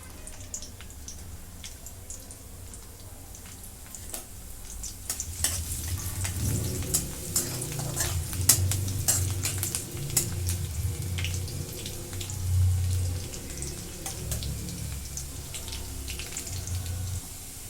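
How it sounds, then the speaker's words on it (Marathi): Garlic frying in hot oil in a kadhai, a steady moderate sizzle that thickens and grows busier midway, with faint scattered crackles and no talk. "मी आता इथे कढई ठेवली मग तेल ओतून घेतलंय लसूण टाकून घेते"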